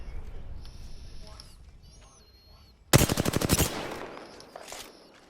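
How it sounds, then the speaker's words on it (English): Automatic weapon fire in the Apex Legends video game: a rapid burst of about a dozen shots after quieter in-game ambience, loud and close, followed by fainter sounds. "Opening fire"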